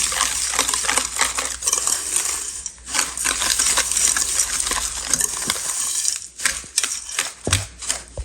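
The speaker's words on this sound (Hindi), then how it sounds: "अब इसको हम मिक्स कर लेते हैं अच्छी तरह घी और चीनी को" Ghee and sugar are mixed by hand in a bowl, a busy close scraping and clinking of a spoon against the bowl that goes on without a break, with no talking.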